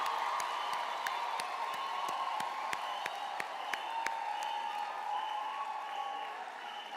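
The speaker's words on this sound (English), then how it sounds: "let's have a round of applause for the graduating class of 2025" Sustained applause from a large crowd at a university graduation ceremony for health sciences graduates in Durban, a steady wash of many hands clapping with scattered sharper claps standing out, holding level throughout before easing slightly at the end.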